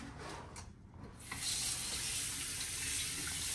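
A hot-water tap runs steadily into a bathroom basin, quieter at first then gushing louder and fuller for the rest, with no voices.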